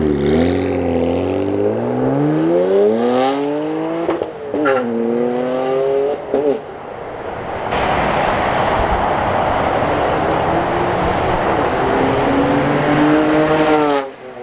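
A BMW 335i accelerates hard with torque, its engine note climbing in steady rising harmonic sweeps, easing briefly, then surging again into a broad, loud roar close to the listener.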